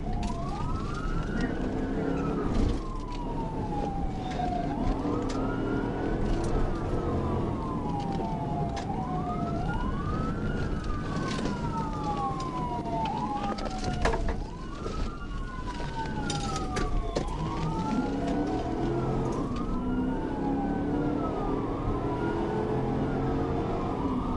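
Police car siren wailing steadily through a high-speed chase at around 70 mph, rising and falling sweeps repeating every few seconds, loud and close over a continuous engine and road rumble.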